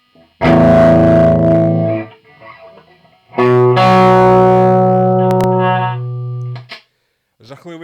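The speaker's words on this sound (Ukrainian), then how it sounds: "кліпінг лише від е, того, що я просто додав гучності" Plexi JTM45 clone guitar amp pushed to high volume and clipping, with two long, loud, distorted sustained chords ringing out one after another, each fading at the end.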